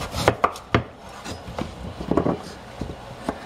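A knife chops vegetables into spoon-sized chunks for a veggie stew, giving close, irregular sharp taps against the board with short pauses between the strokes.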